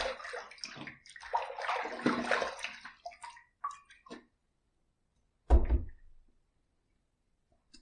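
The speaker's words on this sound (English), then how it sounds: "Let's rinse." Water running and splashing as a face is rinsed after a shave with a Bakelite safety razor, a steady close wash that stops, then one short louder splash and silence.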